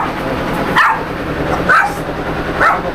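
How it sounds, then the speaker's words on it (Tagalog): Dogs at a farm resort bark in short, sharp bursts, about three separate barks spaced roughly a second apart at moderate distance over a faint outdoor background. "Daming aso, no?"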